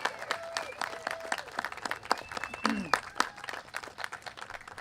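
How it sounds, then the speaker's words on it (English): Scattered clapping from a Tea Party rally crowd in Glen Allen, Virginia, for the Henrico Police Department, sharp uneven claps with a few voices and a whistle-like tone, moderately close. "let's give a big round of applause for the Henrico Police Department"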